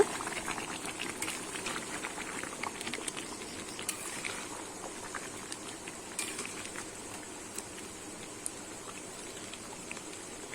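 Chicken kosha with potatoes simmers in a pan over low heat, a faint, steady bubbling and soft spattering with scattered small pops, quiet and continuous, with no voices.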